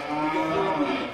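A single cow gives one short, close moo at a cattle market.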